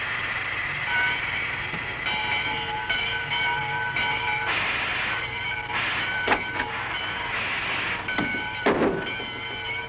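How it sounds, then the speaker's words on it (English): A train rumbles and hums steadily, with metallic squeals and clanks as it starts to pull away. "It's about time for the train to leave."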